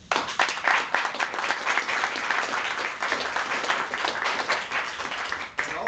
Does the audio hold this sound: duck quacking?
no